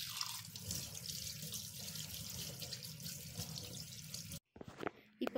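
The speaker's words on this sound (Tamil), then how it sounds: "இப்போ நம்ம இதை வாஷ் பண்ணிடலாம்" Tap water runs steadily into a sink while a face pack is rinsed off, a continuous close splashing flow that breaks off briefly near the end before a few drips and splashes return.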